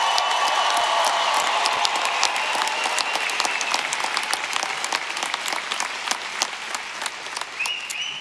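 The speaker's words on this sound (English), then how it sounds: "Can you give our graduates a big round of applause?" Large commencement audience at the University of Evansville's 168th ceremony applauding the graduates, a sustained broad roar of many hands with sharp individual claps, steady and full for the whole stretch with faint cheering mixed in.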